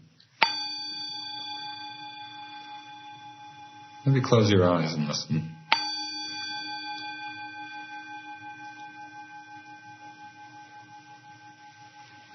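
A bell is struck twice, each a clear metallic ring with a long sustained, slowly fading tone, and a calm voice speaks briefly between the two strikes.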